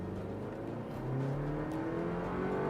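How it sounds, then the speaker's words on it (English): Toyota Land Cruiser in sport mode launching hard from a standstill, the engine note climbing steadily with rising harmonic sweeps as it accelerates, loud and continuous throughout with no talk. "let's actually throw it into sport mode real quick and do a launch"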